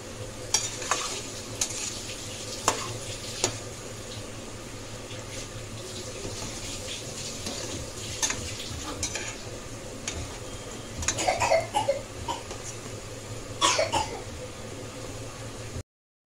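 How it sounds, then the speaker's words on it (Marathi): Moong and chana dal bhaji fry in hot oil in a kadhai on a gas stove, giving a steady close sizzle with scattered clinks and brief bursts of bubbling as the fritters are turned. "गॅसवर कढई ठेवून तेल तापत ठेवलेले भजी तळून घेऊया।"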